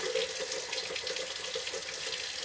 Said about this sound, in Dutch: Komt weer water uit, hartstikke goed.